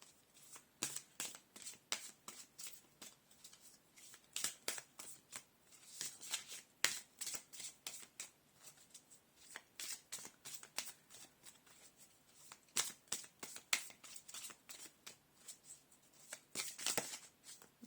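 Tarot cards are shuffled and handled close up, with a rapid series of crisp riffling flutters and flicking snaps that come in bursts across the whole stretch, fairly quiet, with no talking.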